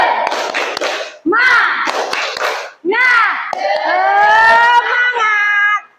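Schoolchildren in a classroom perform a rhythmic spirit clapping chant, bursts of sharp group claps alternating with loud shouted voices in several short phrases, ending in a sustained crowd cheer.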